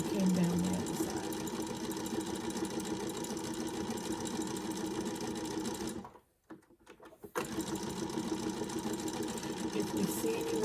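A sewing machine stitches fabric scrap trim in a continuous close whir, pauses briefly for about a second, then resumes, while a voice talks over it.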